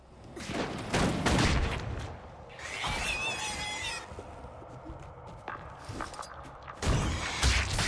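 Pistol shots in the game Guild Wars 2 come as a few loud sharp cracks in short clusters, with a brief metallic mechanical whirring between them.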